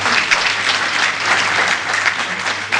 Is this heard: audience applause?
yes